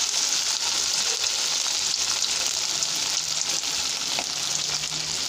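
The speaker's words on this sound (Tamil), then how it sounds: "பொரிக்கிறாங்க." Paarai fish sizzling as it fries in hot oil, a steady, dense crackle with brief louder pops, close and continuous with no talking.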